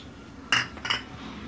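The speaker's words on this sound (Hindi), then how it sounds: "इसको अच्छे से मिक्स कर देंगे।" A spoon clinks twice against a bowl while dahi vada batter of ground dal is mixed with chopped onion, green coriander and roasted cumin powder; two short, close clinks over quiet background.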